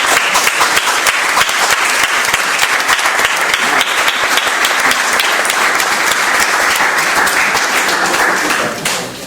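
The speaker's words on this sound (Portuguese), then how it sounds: "Acho que podemos dar aqui um aplauso aos nossos convidados." An audience at a food photography gathering applauds the guests with loud, close, dense clapping that carries on for several seconds before tapering off abruptly at the end.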